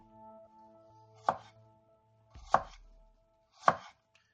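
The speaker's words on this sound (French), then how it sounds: "Donc vous les coupez en petites tranchettes." Three separate knife chops land on a cutting board about a second apart, each a crisp close thud, as ingredients for sweet-and-sour chicken are cut into thin slices; faint background hum between strikes and no talking.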